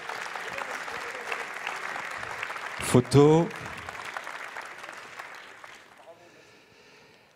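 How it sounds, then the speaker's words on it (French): Audience applause at a French climate-label award ceremony, a steady crowd of clapping hands sustained for several seconds, briefly broken by a louder voice and fading toward the end. "Félicitations, on vous applaudit bien fort également"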